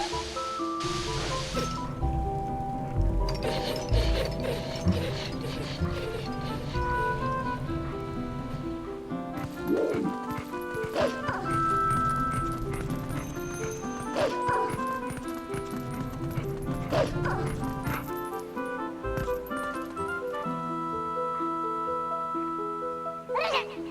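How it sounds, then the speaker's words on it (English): Barking and yipping from a dog in Zelda: Twilight Princess, sounding in short bursts over busy game music and rain-like ambience throughout. "You bad doggy!"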